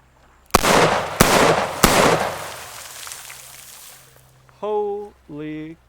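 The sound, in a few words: S&W .460 XVR revolver gunshots, double action, 14-inch barrel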